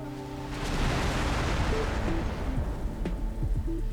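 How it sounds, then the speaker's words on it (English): An explosion in the space game X4 rolls out as a loud, sustained low rumble, followed by a sharp crack near the end, with faint electronic tones underneath. "Explosion imminent."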